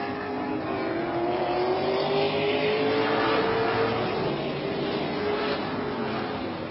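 Stock cars race on a track in the Quest Industrial Mid-American Stock Car Series, a steady loud engine roar with rising and falling pitch as the cars run close, continuous and without voices.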